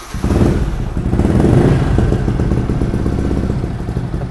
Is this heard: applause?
no